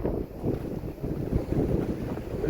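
Mountain creek in the Sierras rushing steadily close by, a broad low washing roar with wind buffeting the microphone throughout.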